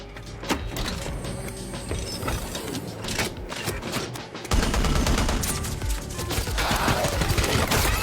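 Proximity cannons in a canyon roar to life in a dense, continuous barrage of rapid gunfire with clattering mechanical bursts, loud and unbroken, thickening midway through.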